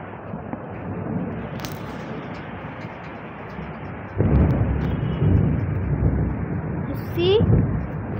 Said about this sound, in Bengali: বাইরে অনেক বিদ্যুৎ চমকাচ্ছে গাইস